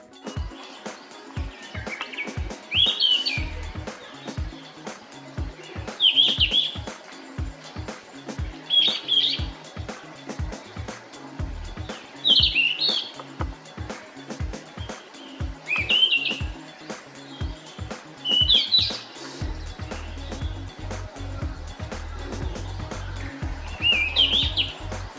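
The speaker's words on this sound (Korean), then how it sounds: "흰 눈썹 황금새가 있어요. 그 아름다운 새 소리를 한번 들어볼까요?" A yellow-rumped flycatcher with a white eyebrow sings on Hallasan in spring, repeating short bright phrases every few seconds, loud and close, with quieter chirps between them and a faint low background hum.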